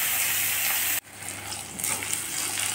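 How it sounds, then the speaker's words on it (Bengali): Chopped tomato frying in oil with black cumin and ginger makes a loud, steady sizzle that drops sharply for a moment, then builds back up, crackling unevenly, with stirring noises and no talk. "টমেটো ভাজা হয়ে গেছে"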